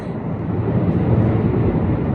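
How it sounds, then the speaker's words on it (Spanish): Low, steady roar of airplanes maneuvering overhead, a deep rumbling drone that sounds like distant thunder and holds constant throughout. "Las gaviotas están un poco asustadas porque están maniobrando los aviones."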